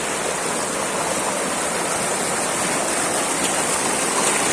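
Water rushing along a forest trail, a steady broadband roar like a nearby stream or waterfall, continuous and fairly loud with no voices over it.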